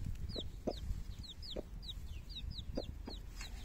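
A black Brahma hen clucking near her chick, a string of soft, close clucks at uneven intervals mixed with high thin chick peeps over faint outdoor background noise.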